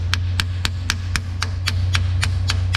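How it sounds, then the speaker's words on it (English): A hammer taps a 12mm socket down onto a worn 13mm differential cover bolt head on a turbo Yukon, about a dozen sharp metallic strikes at a steady, even pace, close and loud, over a constant low hum. "I'm using a 12mm socket and I'm tapping it onto the head with a hammer"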